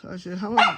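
Sophie, a pet dog, gives a short bark that rises near the end, partly mixed under a person talking close by.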